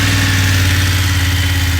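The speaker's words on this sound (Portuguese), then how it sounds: "vamos ligar a motoca aqui, ó" BMW F900GS Adventure motorcycle with its stock exhaust runs close by, a loud, steady low engine rumble with a fast even pulse and no voices.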